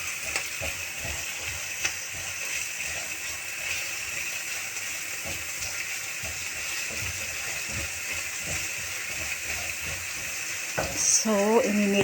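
Onions sizzle and fry in oil in a pan until golden brown for ginataang tulingan, a steady crackling hiss with occasional stirring clicks, close and constant, a brief clatter near the end.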